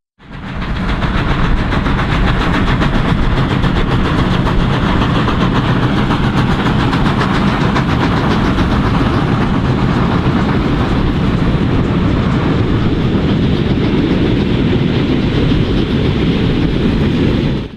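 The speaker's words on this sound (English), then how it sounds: "3 steam locomotives triple heading" A steady, loud rumble of three mismatched steam locomotives triple-heading a train past, with rhythmic clattering wheels, continuous throughout.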